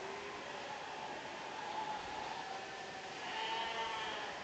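Sheep bleat at a livestock show event, a continuous wavering chorus of calls heard over a steady, noisy indoor crowd ambience.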